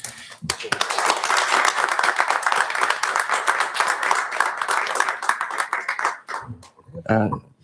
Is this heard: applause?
yes